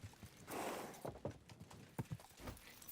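Horse hooves clip-clop in Kingdom Come: Deliverance 2, a faint, irregular run of soft thuds close by with no talking.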